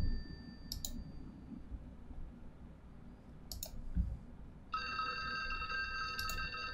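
A telephone ringing in the 1995 PC horror game Clock Tower, a steady electronic ring starting partway through alongside repeated sharp clicking ticks, with no talk over it.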